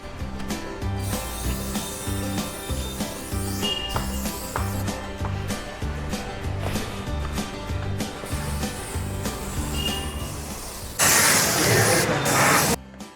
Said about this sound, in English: You spray a little from the bottom as well.